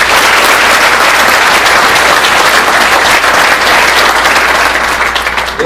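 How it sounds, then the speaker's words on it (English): An audience applauds at a Hall of Fame induction ceremony, dense and loud continuous clapping filling the hall for the whole stretch with no voices over it. "let's give him a nice round of applause"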